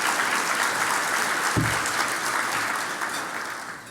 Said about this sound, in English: So a round of applause to everyone who helped the student getting to where it is.